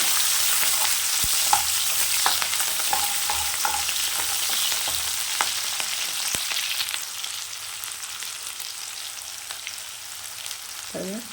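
Shallots, green chillies and curry leaves fry in oil in a pan for a mushroom gravy, giving a steady bright sizzle with occasional stirring clicks and scrapes, close by and without talk.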